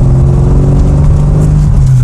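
A 1963 Rover P4 110 engine revs while misfiring, a loud, close, steady droning rumble with an uneven, stumbling edge running without pause.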